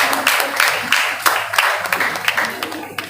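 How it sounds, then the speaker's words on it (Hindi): Loud, dense applause from students welcoming a guest at an international seminar at a college in Buxar, steady clapping throughout with bright sharp claps. "बच्चे एक बार पुनः जोरदार तालियों से स्वागत करेंगे"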